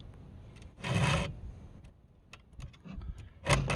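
Hand file sharpening a chainsaw cutter while cutting firewood, giving two distinct rasping strokes with quieter scraping and small taps between them, close and fairly soft.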